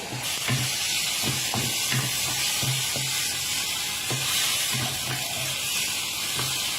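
Tofu stir-fried in oil sizzles steadily and close, broken by rhythmic scrapes and taps of a spatula against the pan.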